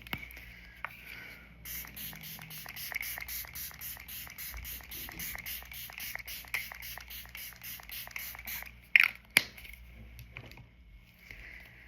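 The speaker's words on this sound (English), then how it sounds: "we're going to do our entire face and go back in with the setting spray" Rapid, evenly spaced spritzes of makeup setting spray onto a face repeat steadily for several seconds, fairly close, with a few sharper clicks near the end.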